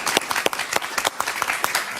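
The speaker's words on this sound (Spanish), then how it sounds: "un aplauso para ella" A studio audience applauds a senator on a late-night talk show, with dense, steady clapping from many hands and sharper individual claps standing out over the crowd for the whole stretch.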